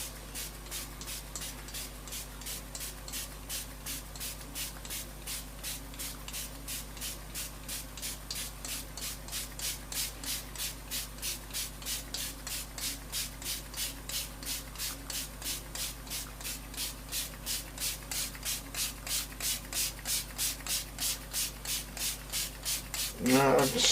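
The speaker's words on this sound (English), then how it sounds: "Now I'm spraying. Can you see as it's coming out?" A spray bottle sprays Brusho colour paint in a rapid, steady hiss of quick regular bursts, fairly close, continuing without pause and ending with a brief louder clatter.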